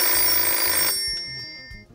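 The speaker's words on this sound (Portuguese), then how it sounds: "adorei o telefone, totalmente retrô" An old-fashioned retro telephone bell rings loudly and steadily for about a second, then cuts off, leaving a faint fading tail and low room noise.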